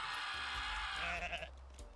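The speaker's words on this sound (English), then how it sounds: "You gotta fight a really buff goat" A goat bleats in the ME SIMULATOR video game, a single strained, wavering cry lasting about a second and a half over steady game background noise.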